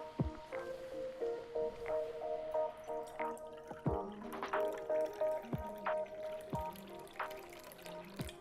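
One cup of water poured into a bowl of ingredients for rosemary flatbread, heard as a soft, close series of drips and splashes with faint clinks, quiet and intermittent.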